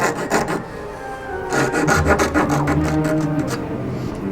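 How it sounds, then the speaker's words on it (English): A fine detail saw cuts wood along a knife line for a bureau cockbeading, quick rasping back-and-forth strokes close by, a short pause, then a longer run of steady strokes. "this detail saw fits right in the groove in the knife line and follows it down"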